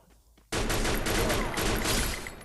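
Sustained automatic gunfire in a shooter video game bursts in abruptly after a quiet start and continues as a loud, dense, rapid stream of shots to the end.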